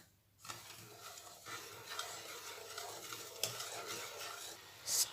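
Water and brown sugar are stirred in a pot for caramel, with a quiet continuous scraping and light bubbling hiss, close up and faint, ending with a brighter clink, and no one talks.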